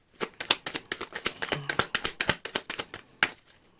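Tarot cards are shuffled by hand in a rapid run of crisp, close slapping and riffling clicks, about a dozen sharp hits in quick irregular rhythm, with no talking over them.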